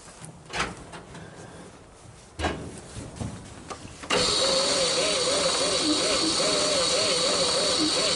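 After a few clunks and bumps, the engine of a 1959 Chevrolet Apache truck cranks over slowly and continuously, a loud rhythmic churning that carries on to the end of the clip.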